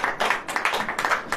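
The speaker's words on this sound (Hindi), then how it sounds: "ताली बजाओ।" An audience at a wedding-themed church sermon claps hands, a brief run of fairly quiet, rapid clapping with no voices over it.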